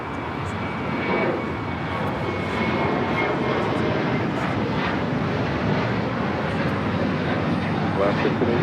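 A United airliner takes off on runway 25 right at Los Angeles LAX. Its engines make a loud, sustained roaring rumble that holds steady throughout, with radio chatter faintly beneath.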